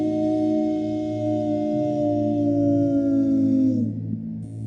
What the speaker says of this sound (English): It was a howling, a wailing that couldn't have come from human lips.